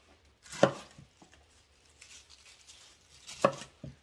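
A knife chops cabbage finely on a board, two sharp close cuts about three seconds apart with softer scraping and light taps between them.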